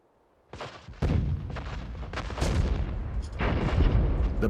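World War One artillery barrage on a Canadian front: after half a second of near quiet, dense overlapping heavy booms and rumbling blasts erupt and keep building into a continuous, loud roar of gunfire.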